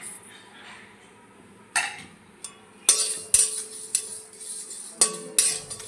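Panch phoron, fennel and fenugreek seeds roasting in a hot pan, quiet and close, with sharp metallic clinks and scrapes of a spoon against the pan in an irregular run of strikes.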